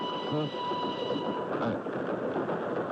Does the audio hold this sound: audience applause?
no